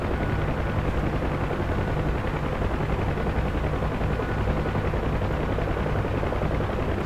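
Sustained heavy gunfire and rumbling combat noise in the flight combat game DCS World, a dense continuous roar of shots and engine drone at steady loudness with no voices.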